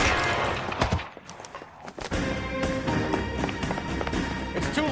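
Gunfire in the crime video game L.A. Noire rings out as a dense, continuous barrage of sharp shots over a busy game soundtrack, with a brief lull near the second mark before the shooting resumes.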